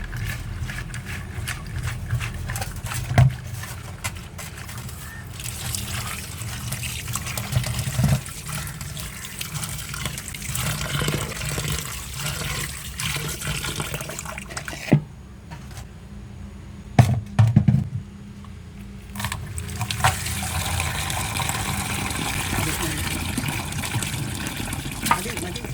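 Running tap water splashes over koorka (Chinese potato) pieces being put to soak, a continuous close wash with brief handling clunks and a short pause midway.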